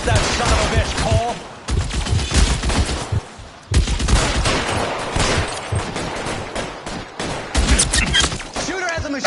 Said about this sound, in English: Shooter has a machine gun.